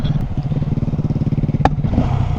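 A Honda Grom motorcycle engine bogs at full throttle, a rapid uneven putter of firing pulses sputtering close by with a brief sharp crack, no talking.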